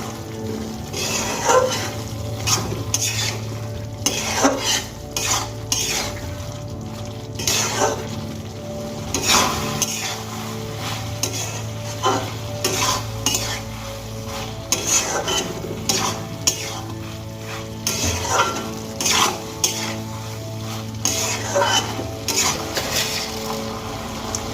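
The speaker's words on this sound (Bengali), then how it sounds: "এবার আমি ভেন্ডি আর মশলা খুব ভালো করে 2 মিনিটের জন্য কষিয়ে নেব।" Okra and spices are sautéed in a pan with a soft sizzle beneath frequent, rhythmic stirring scrapes and clinks of a spoon against the metal, close and fairly loud.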